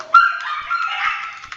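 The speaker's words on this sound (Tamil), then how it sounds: "பின்னாடி நாய் குலைச்சிக்கிட்டு இருக்குது." A dog barks in one loud, close, drawn-out whining bark that trails off into a yelping whimper, heard alone.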